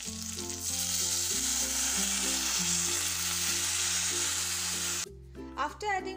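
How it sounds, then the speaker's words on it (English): Water is poured into a hot pan of Bengali muri ghonto, and a loud, steady sizzle fills the kitchen before it cuts off abruptly, leaving soft clinks and a low hum. "now I am going to add water into it"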